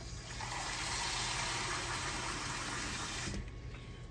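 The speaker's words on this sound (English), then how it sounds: "And we're gonna put about maybe 2 cups of water, not a lot." Water pours steadily into a cooking pot of seasoned pig's feet being smothered for soul food, a continuous near splashing rush of about two cups that cuts off abruptly near the end.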